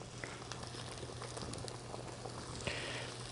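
Water boils in a pot on a kitchen stove, a faint, steady bubbling patter with soft pops, heard up close and alone.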